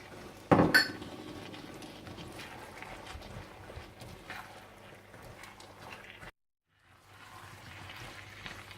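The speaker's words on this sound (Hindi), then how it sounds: "आप इसमें प्याज डाल दें और इन्हें भी आप अच्छी तरह से मिला लें" A spoon stirring chopped onions into samosa chaat in a bowl, with a sharp clink at the start followed by steady scraping and clattering of metal on dish close by, a brief pause, then more stirring.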